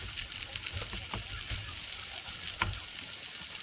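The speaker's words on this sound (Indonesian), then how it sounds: "Balik kan goreng telok." Egg sizzling and frying in a Teflon pan, a steady close crackle with occasional louder spits and pops throughout.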